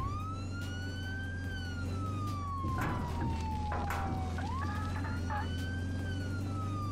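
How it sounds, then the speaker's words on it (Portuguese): Ambulance siren in the Flashing Lights emergency-services game, a steady wailing tone that sweeps slowly up and down over a constant low engine drone, with a few brief clanks partway through. "Liguei a sirene aqui e vamos embora."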